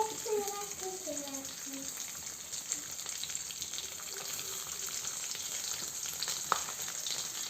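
Coconut pieces sizzle and crackle steadily in hot oil in a pan, a close continuous frying hiss with occasional stirring clicks and soft speech at the start.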